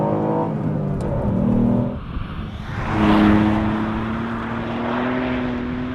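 A Ford Fiesta ST engine drops revs, blips sharply during a heel-toe downshift into second, then pulls and climbs again, a close, loud rising engine note with a steady tonal hum.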